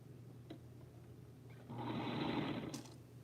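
A sewing machine stitching quilt blocks, a quiet low hum that swells into a steady whirring run of stitches for about a second, close up with no voices.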